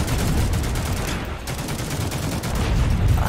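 Dense, continuous video game gunfire fills the moment a player gets sniped in a third-person shooter, the shots overlapping into a steady barrage at constant loudness with no clear gaps.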